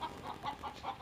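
Chickens on a small rooftop farm atop a five-storey building cluck softly in quick, uneven bursts, faint and close, with no voices.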